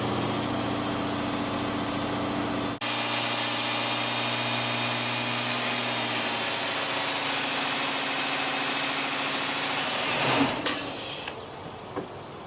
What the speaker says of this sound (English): I'm going to rig this up to where it'll hold the RPMs at approximately 1500